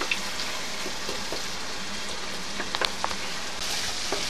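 Onion paste sizzling steadily in a hot pan while making chicken roast, a dense continuous frying hiss with occasional soft clicks and scrapes from stirring.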